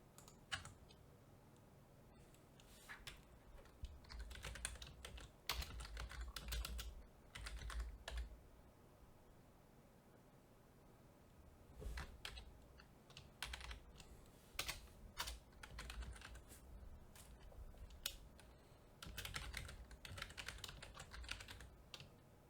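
Fingers type code on a computer keyboard in bursts of quick, close clicking and clacking keystrokes, separated by short quiet pauses, with no voices.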